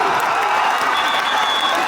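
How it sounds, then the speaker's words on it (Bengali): Loud, dense applause and crowd noise from spectators at a football match, a steady burst of clapping with no pause throughout. "একটা জোরে করতালি"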